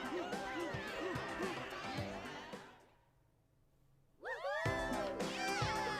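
A cat meows in an anime-style cutscene from the video game Persona 5 Royal, with several rising cries heard under busy music and voices, then a brief near-silence before another clear meow returns.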